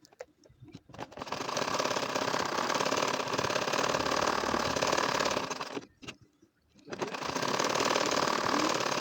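A domestic sewing machine stitches a nakshi kantha quilt, its steady running whir continuing for several seconds, stopping briefly near the six-second mark, then starting up again, close and loud with no talking.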